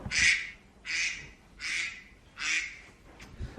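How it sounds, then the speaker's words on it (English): Four evenly spaced, nasal quacking calls repeat in a steady rhythm, clear and close, like a looping duck-sound alarm. "That's my duck alarm."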